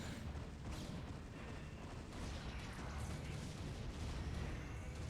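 Cannons fire in the video game tQ during a seven-player free-for-all match, a dense, continuous rumble of overlapping booms held at a low, even level with no commentary over it.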